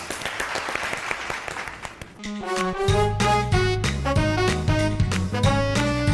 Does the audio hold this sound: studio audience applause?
yes